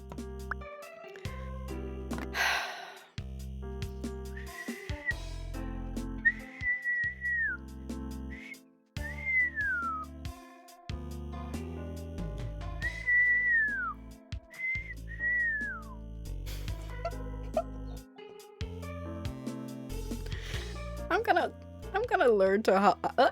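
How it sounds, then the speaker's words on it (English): A person trying to whistle makes a run of short, wavering whistled notes with gliding pitches and breaks between attempts, mixed with other sounds throughout. "I'm trying to whistle. I can't whistle."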